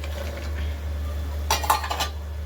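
Dried mutton pieces go into a pan of cooked tomato masala, followed by a short burst of metal spoon clinks and scraping against the pan over a low steady hum.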